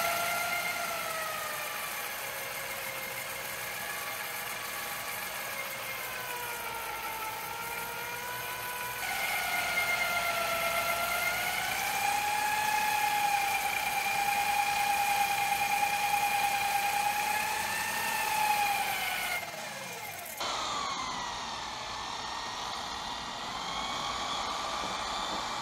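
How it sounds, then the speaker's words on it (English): Motorised buffer polishing a homemade cymbal cut from a saw blade with polishing compound, giving a steady whirring drone with tonal bands that rise and shift midway, briefly dropping out near the end before resuming. "I do intend to still polish it up with some polishing compound and a buffer."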